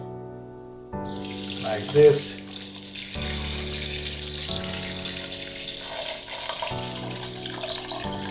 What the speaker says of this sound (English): now I'm just pouring water over it